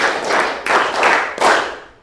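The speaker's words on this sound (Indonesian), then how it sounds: "Di sini nama ice breaking-nya adalah tepuk berirama" Rhythmic group hand clapping during an ice-breaker game, three bursts of claps in unison, each one a loud close wash of hands with short gaps between.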